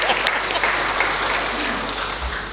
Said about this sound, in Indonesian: Kurang keras tepukannya.